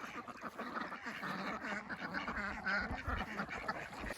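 Farm ducks quack in a busy, overlapping chorus, moderately near and fairly quiet, with repeated nasal calls through the whole few seconds and no talking over them.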